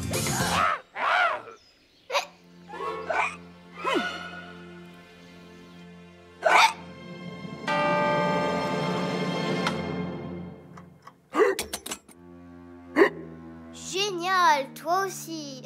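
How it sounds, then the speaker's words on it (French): A cartoon character from Masha and the Bear hiccups several times, each a short sharp yelp, spaced a few seconds apart amid cartoon music and sound effects. "Tu as le hoquet maintenant."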